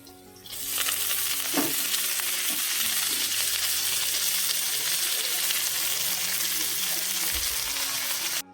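Loud, continuous sizzling of red spinach frying in a hot pan begins abruptly and holds steady, with occasional scraping from stirring.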